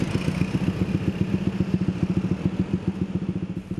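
A motorcycle with a loud aftermarket exhaust chugs nearby on a public road, giving a rapid, uneven low-pitched popping rhythm that pulses steadily throughout.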